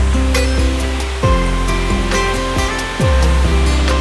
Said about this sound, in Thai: ว้าวน้ำตกสวยมาก